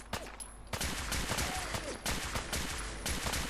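Sustained gunfire in the video game Fallout 4, with dense bursts of shots overlapping in a continuous fusillade at steady loudness for the whole stretch.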